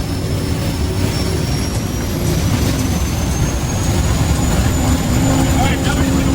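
An aircraft engine running at high idle after a compressor wash makes a loud, steady roar with a faint high whine above it, holding even throughout.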